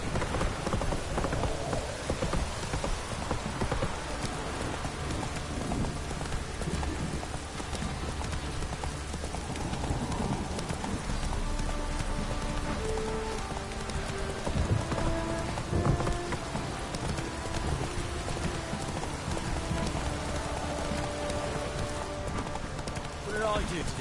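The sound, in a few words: rain falling in the video game The Witcher 3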